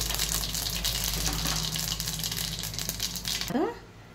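Mustard and cumin seeds sizzling in hot oil for a cauliflower tomato curry, a steady close hiss and crackle throughout, ending abruptly with a short scrape near the end.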